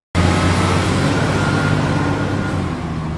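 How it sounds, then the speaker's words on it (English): A compact pickup truck's engine runs as a steady, close, loud rumble with a low droning hum, starting after a brief moment of silence and holding evenly for about three seconds with no voices. "Compact pickup truck."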